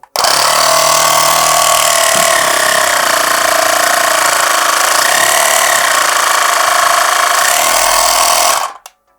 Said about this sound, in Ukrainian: Зараз давайте Увімкнемо і послухаємо, як буде працювати компресор.